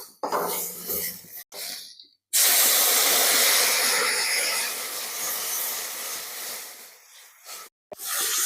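Water poured into hot chilli and spice masala in a pan sets off a sudden loud hiss of steam that holds for several seconds and then fades, with quieter sizzling before and after.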